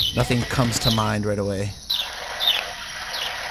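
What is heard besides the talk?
many birds calling, heard through a teammate's game mic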